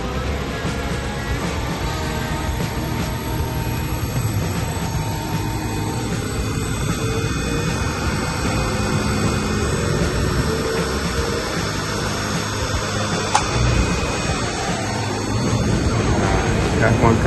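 A 10-ton Carrier rooftop HVAC unit blower spins up into a steady, loud, broadband roar with mechanical hum and whine. It holds constant for about seventeen seconds, with a brief sharp click near the end.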